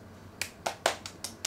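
Six sharp, separate claps spaced at uneven intervals, quiet and close by, with no talking and near silence between them.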